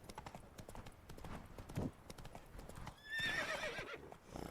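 Roach, Geralt's horse in The Witcher 3: Blood and Wine, galloping with quick, fairly faint hoofbeats that end in a clear, high whinny near the end.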